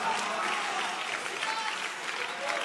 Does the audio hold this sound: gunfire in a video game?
no